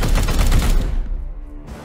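Loud, dense gunfire in the Chaos Gate video game, a rapid fusillade that fills the first second before abruptly cutting to a quieter lingering tail.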